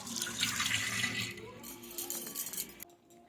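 Tap water runs steadily into a kitchen sink while fish is being washed, a continuous close splashing with a few faint clinks of a cup, cutting off near the end.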